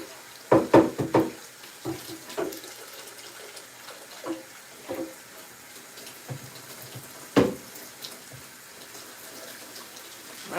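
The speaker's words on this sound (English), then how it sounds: "Rinsing the starch off." Tap water runs and splashes over rice in a kitchen as the starch is rinsed off, a soft steady flow broken by a few sharp knocks and clinks of the pot near the start and once more later.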